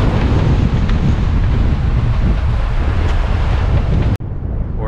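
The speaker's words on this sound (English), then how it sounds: "they've been hitting up to about 28 knots, so we have plenty of wind today" Strong wind of about 28 knots roars steadily across the microphone aboard a sailboat at sea in the Caribbean, a loud continuous rush with the hiss of water beneath, cut off abruptly near the end.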